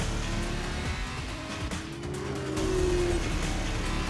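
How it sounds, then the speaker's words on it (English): Race cars running wheel-to-wheel in F1 2019, a loud continuous engine roar with a rising whine and tire squeal, no voices. "Devon Butler locked in wheel-to-wheel racing with his championship rival, desperate to shut them down and stop them getting past"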